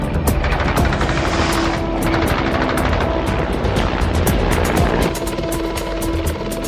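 A Mi-4 helicopter, the armed Soviet fire-support variant, flies with a loud, steady rotor and piston-engine drone that throbs rhythmically throughout, with no talk over it.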